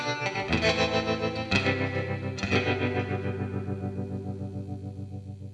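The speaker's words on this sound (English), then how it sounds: "Should be a nice clean tremolo." Clean electric guitar chords pulse with a steady tremolo wobble from a multi-effects pedal, three strums ringing out and fading in rhythmic waves.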